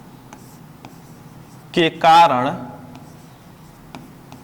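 Faint, steady ticks of writing on a board run through a quiet room during a physics lesson on electric dipoles, with a brief burst of a man's speech in the middle.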